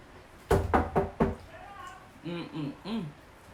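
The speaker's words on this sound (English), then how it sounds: "Oh, knock again." Four sharp, quick knocks land on a door close by, followed by a person talking.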